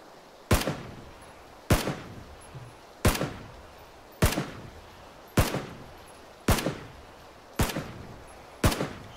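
Gunshots in the battle royale game PUBG, eight sharp single reports spaced roughly a second apart, each with a short echoing tail, fairly loud with no talk over them.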